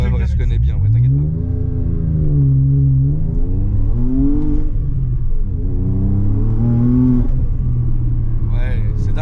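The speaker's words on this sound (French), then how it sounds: "Le bruit de la Wastegate, c'est de la folie, hein." A Porsche Cayman Techart fitted with a Garrett turbo revs loudly and continuously, its engine note rising and falling in sweeping pitch bends, with the wastegate's rushing noise blended into the close, droning rumble.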